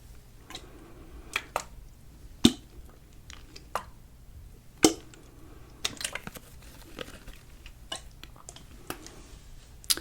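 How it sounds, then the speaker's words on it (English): Plastic water bottle handled for ASMR triggers, with scattered crinkles, squishes and sharp taps in irregular bursts over a quiet background. "So, I haven't done a water bottle trigger before,"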